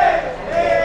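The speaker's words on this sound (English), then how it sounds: "Decent sized crowd here right now." A decent-sized crowd murmurs around a fish stand at Pike Place Market in Seattle, a brief burst of overlapping voices and chatter close by.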